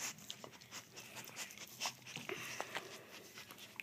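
A German shepherd husky mix dog gives soft, close panting and snuffling with small whimpers and a few brief crunchy sounds at low level, no talking.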